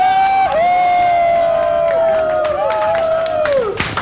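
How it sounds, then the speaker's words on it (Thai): A concert crowd cheers and claps steadily for a guitarist while a long, sliding high note rings out on top, loud and continuous. "เสียงปรบมือให้กับมือกีตาร์ของเรา"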